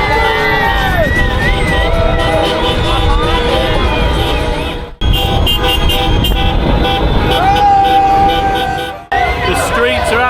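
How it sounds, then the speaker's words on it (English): Car horns blare and toot almost nonstop in gridlocked streets of Batumi after Georgia's Euro 2024 win over Portugal, loud and close, with overlapping long and short honks, crowd shouts and traffic rumble, and voices throughout. "People beeping their horns"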